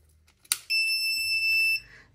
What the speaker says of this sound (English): And then you'll hear the beep in a minute.